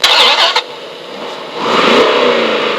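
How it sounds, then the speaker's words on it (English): A remote-control car engine sound effect: a sharp revving burst, then a quieter lull before the motor drone swells up again, loud and close. "There's more than one car sound."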